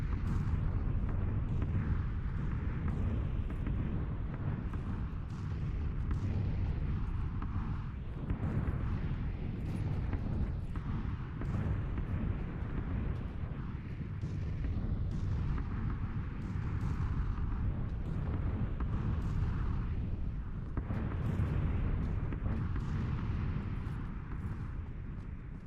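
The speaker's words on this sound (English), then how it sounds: "I'll wait till the bombs are finished" Red zone bombardment in the battle royale game PUBG, a continuous heavy rumble of distant explosions rolling on without a break and staying loud throughout, with no voices heard over it.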